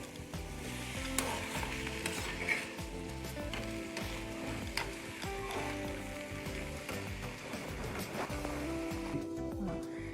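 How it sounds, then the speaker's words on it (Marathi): Sweet potato slices stirred in a pan with melting jaggery for a sweet fasting dish, a steady soft sizzle and scraping running throughout at moderate level with no talk. "आता हा गूळ चांगला मिक्स करून घ्यायचा आणि पूर्ण गूळ मेल्ट होईपर्यंत हलवत राहायचं"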